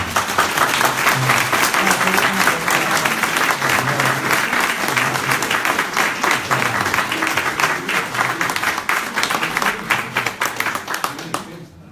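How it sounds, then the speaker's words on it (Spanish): Sustained applause from an audience at a book presentation, dense clapping that holds steady for several seconds and then thins out toward the end, with voices mixed in. "Un aplauso."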